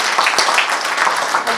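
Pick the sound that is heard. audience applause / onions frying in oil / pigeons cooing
audience applause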